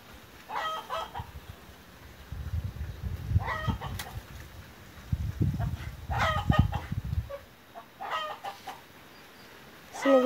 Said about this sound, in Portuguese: Tem galinha no ninho